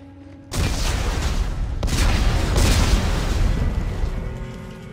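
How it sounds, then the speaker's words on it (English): Explosives detonate in the Dead Space 3 video game, a sudden loud blast followed by a sustained, rumbling roar that swells again midway and lingers through the whole stretch. "Computer, arm explosives. And detonate."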